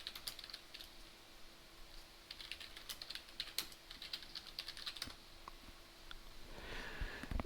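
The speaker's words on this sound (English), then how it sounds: "keyboard that has the clicky sounds deliberately added to it" Typing on a computer keyboard with deliberately added clicky key sounds, a quiet, steady patter of individual keystrokes in irregular bursts, close and alone with no talking.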